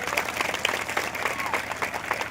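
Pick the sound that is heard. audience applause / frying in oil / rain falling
audience applause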